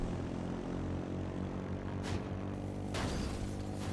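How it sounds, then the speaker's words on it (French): A propeller airplane drones overhead in the survival video game H1Z1, a steady low engine hum that lasts throughout, with a couple of brief whooshing bursts and no talk. "Ah, c'est un avion ça."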